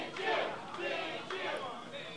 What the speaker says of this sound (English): Crowd chanting, Big Jim, Big Jim, Big Jim.